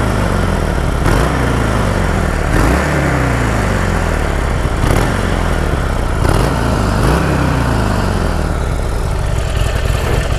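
Harley-Davidson Iron 1200 motorcycle engine idling with some vibration, a loud continuous low rumble with periodic swells and throaty pulses, steady throughout.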